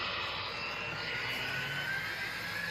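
An MTH Protosound 3 model train locomotive runs at full throttle, giving a steady, loud motor whir and hum with a rushing hiss that holds constant throughout, with no talking.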